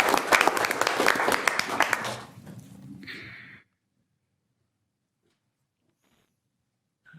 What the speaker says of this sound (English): usually we would clap